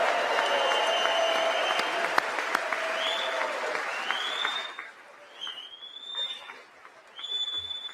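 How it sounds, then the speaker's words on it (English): Audience applause at a political rally, a dense wash of clapping for several seconds that thins out midway, leaving faint whistles and scattered crowd noise. "what exactly are they clapping about?"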